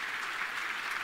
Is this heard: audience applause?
yes